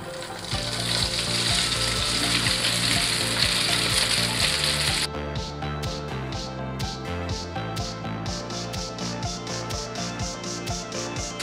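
Spaghetti sizzles steadily in a hot oiled pan, with scraping stirring sounds and rhythmic clinks as it is tossed around.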